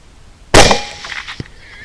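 A single loud, sharp rifle shot cracks out at a hog in a field, followed by a fading echo and a faint thump.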